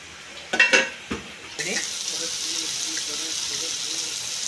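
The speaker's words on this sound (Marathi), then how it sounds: "आता मी पॅन फ्रायमध्ये टोमॅटो आणि कांदे टाकणार आहे। आता मी तेल ओतणार आहे याच्यामध्ये।" Tomatoes and onions in an oiled frying pan for a spicy pasta: a few quick clatters, then a steady, close sizzle of frying that carries on to the end.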